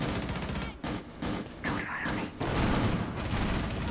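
A loud burst of automatic gunfire in Rainbow Six Siege, with rapid shots broken by short gaps over about four seconds and no voices.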